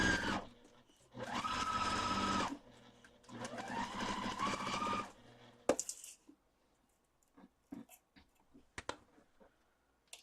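A sewing machine stitches pieces of a Christmas quilt in two steady whirring runs, each a second or two long. Soft clicks and handling noises follow in the quiet.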